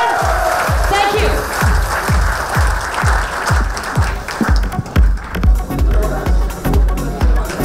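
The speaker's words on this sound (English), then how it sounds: "Can I request everybody to give a loud cheer, ladies and gentlemen?" An event audience in Mumbai breaks into loud applause, dense clapping that swells and continues with a few cheers mixed in.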